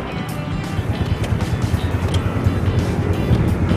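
Yamaha Sight motorcycle engine from 2019 revving, a close, pulsing rumble of short throttle blips that rise and fall rapidly.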